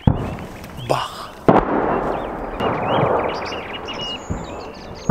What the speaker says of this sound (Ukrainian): Зараз буквально артпідготовка і далі буде бій.